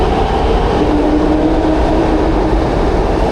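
A Pune Metro train running on overhead-traction lines, a steady loud rumbling drone of wheels and motors with a faint hum, continuous throughout with no voices.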